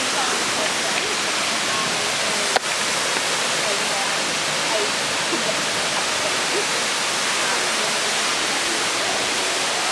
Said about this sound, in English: It's a freshwater waterfall, it's not salty, you can fill up your water balls from it